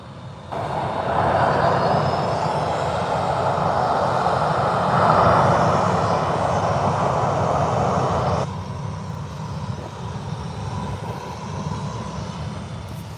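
A Ryanair Boeing 737 jet at Birmingham airport roars steadily at moderate distance with a broad engine rumble and whine that swells, then drops to a lower, quieter hum partway through; no talk.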